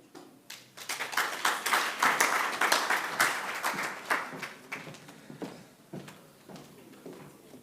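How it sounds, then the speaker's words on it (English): An audience at a partnership summit claps for a speaker, the applause swelling quickly into a full round, peaking, then tapering into scattered claps and a few final taps. "Another round of applause for her, please."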